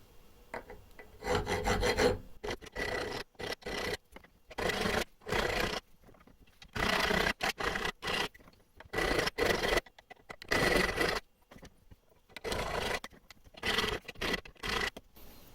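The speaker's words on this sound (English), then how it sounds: "it's a perfect opportunity to use my thread file to clean that up." A thread file rasps back and forth across the threads of an M12 steel bolt with 1.75 pitch, giving bursts of gritty scraping strokes in an uneven rhythm separated by short pauses, close and clear.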